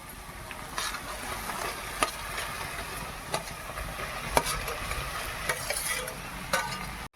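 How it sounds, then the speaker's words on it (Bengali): Drumsticks are stir-fried in a pan as fried potatoes and carrots are added, giving a continuous soft sizzle with a spatula scraping and tapping at intervals, close and fairly quiet, no voices. "ডাঁটাগুলোকে দিয়ে বেশ কিছুক্ষণ কষিয়ে নিয়েছি এবারে ভেজে রাখা আলু আর গাজরগুলোকে দিয়ে দিচ্ছি"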